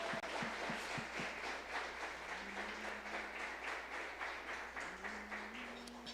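A church congregation applauds, a dense and sustained wash of many hands clapping at a moderate distance, with a low hum underneath and brief sustained tones toward the end.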